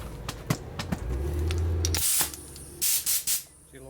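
Compressed air hisses through a low-flow nozzle in a machine shop, coming in a series of short bursts, then a longer steady blast and several loud clipped spurts near the end.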